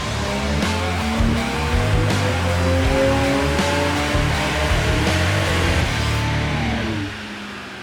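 Modified BMW 335i running hard on a dyno at Horsham Developments, a loud sustained engine roar with rising harmonic sweeps as revs climb, easing off near the end.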